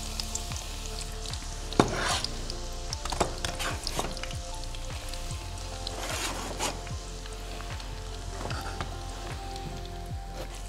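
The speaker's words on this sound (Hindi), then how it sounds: "हमने डालडा का ऑयल गरम किया, उसमें हमने अपनी रफली चॉप प्याज डाली है" Roughly chopped onions sizzle steadily in hot Dalda oil, a close, even frying crackle with scattered pops and spits throughout, no talking over it.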